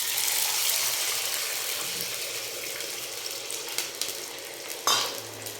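Water poured into a hot pan of fried lentils for upma, a steady close sizzle and bubbling with a few clinks of a utensil near the end.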